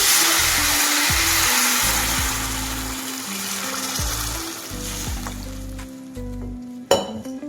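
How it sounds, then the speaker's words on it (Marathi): Water poured into a hot pan of roasted masala for thin amti, a loud rushing hiss that gradually settles into bubbling and scraping, with a sharp clatter near the end. "आणि त्यानंतर ह्याच्यामध्ये जाणार आहे पाणी."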